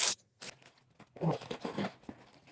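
Short bursts of tearing and crinkling as scissors cut open a parcel, then quick snipping and rustling up close, scattered across a couple of seconds with quiet gaps between.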